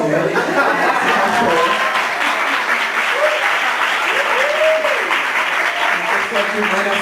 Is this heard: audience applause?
yes